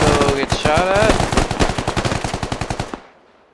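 Automatic gunfire in the Squad video game, a fast run of about twenty sharp close shots in a steady rhythm. A burst of radio-like chatter rides over the start, and the shots stop abruptly near the end.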